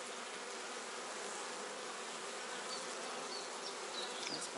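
Honey bees buzz around an open hive frame at close range, a dense steady drone that stays loud throughout with a few brief individual bees passing near.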